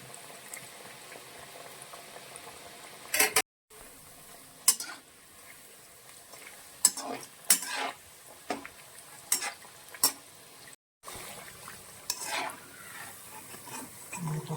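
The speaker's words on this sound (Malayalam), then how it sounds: "നല്ലവണ്ണം മൊരിയിച്ചെടുക്കണം" Onion pakoda fritters fry in hot oil with a soft, steady bubbling sizzle. Louder scraping stirs and clinks break in now and then, with brief gaps of silence.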